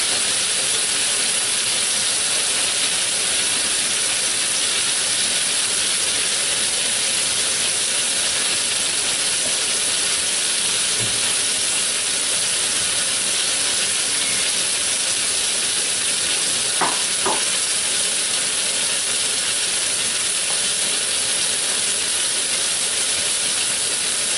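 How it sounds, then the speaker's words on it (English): Lamb roast searing in a hot pan gives a loud, steady, continuous sizzle and hiss, with a couple of faint clinks partway through and no voices. "That searing."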